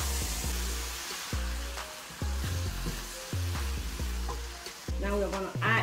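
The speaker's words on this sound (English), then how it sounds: "Now you stir it." Cabbage fried in a pan and stirred with a spoon, loud close sizzling punctuated by a series of sharp scraping strokes about once a second, with no voices.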